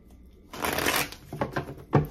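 Playing cards shuffled during a tarot reading, a burst of papery riffling and flutter followed by a few sharp card snaps and taps, close and fairly loud with no talk.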